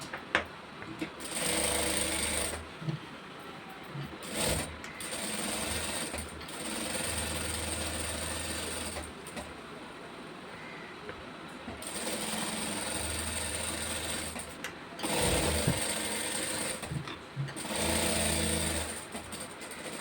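A sewing machine stitches a blouse in repeated bursts of fast, close mechanical whirring and clatter, with short pauses between runs, steady and fairly near.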